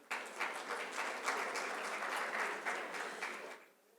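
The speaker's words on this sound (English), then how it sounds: "Can we please have a huge round of applause for them?" An audience at a business summit gives a round of applause: dense, steady clapping from a crowd that holds at an even level for several seconds, then quickly dies away.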